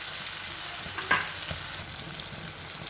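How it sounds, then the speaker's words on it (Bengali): Ground ridge gourd peel paste fries in a hot wok as it is stirred, giving a steady close broadband sizzle with one brief louder scrape midway. "কড়ায় নাড়তে থাকবো।"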